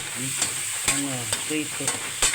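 Ingredients, including large tomatoes, fry in a pan while being stirred, giving a few sharp utensil scrapes and knocks over a soft sizzle.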